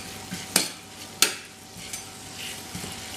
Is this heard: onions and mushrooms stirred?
yes